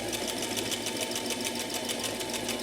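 Sewing machine stitching a hem along the top of pocket openings on shoulder pieces of a Renaissance peasant costume, a steady rapid needle whir running continuously at close range with no talk.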